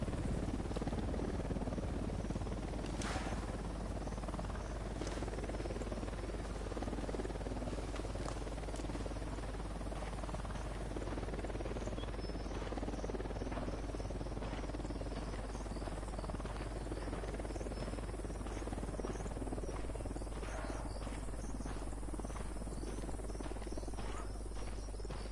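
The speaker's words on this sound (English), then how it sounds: "Got a chopper." Helicopter in Ghost Recon Wildlands on PS4 Pro, a steady low rotor drone throughout amid subtropical ambience of buzzing insects and crickets, with faint intermittent clicks.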